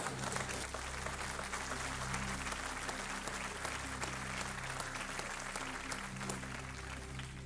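A studio audience on the Kaun Banega Crorepati game show claps loudly and continuously, dense sustained applause filling the whole stretch over a low steady hum.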